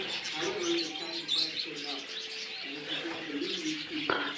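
A pair of zebra finches with their chicks at a finch breeding farm chirp in short, busy tweets, mixed with soft cooing from other birds and a steady chatter close by.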